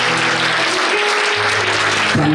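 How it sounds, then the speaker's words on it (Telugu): A church congregation claps loudly together during a worship service, a dense, continuous burst of applause that fills the short stretch, with a low sustained tone underneath. "ఈ నజరేయుడైన యేసు నామమున నాకు ఈరోజు జయం ఇచ్చిన వారు గట్టిగా చప్పట్లు కొడుతూ"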